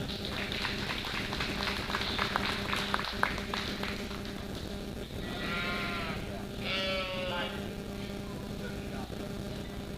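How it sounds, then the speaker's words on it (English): Sheep bleat in a busy livestock show barn, several wavering calls rising over a steady crowd murmur and background chatter, with people talking throughout. "I think there's an exceptional set of sheep"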